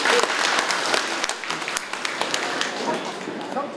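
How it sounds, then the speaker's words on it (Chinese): An audience at a community meeting for indigenous tribal home-economics classes applauds, a dense wash of clapping that is loud at first and then tapers. "在最困难的时候，因为预算的方面，我们孔委员帮忙非常的多，再次给他掌声好不好？"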